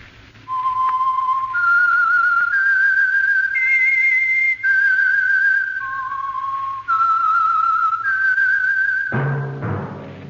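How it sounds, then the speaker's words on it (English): A radio show's theme tune is whistled as a clear, loud, sustained melody. It moves through several held notes and ends with a brief orchestral sting. "That whistle is your signal for the Signal Oil program, The Whistler."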